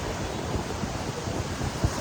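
Sea waves wash onto a beach in a continuous low rumbling surf, with wind buffeting the microphone and no voices.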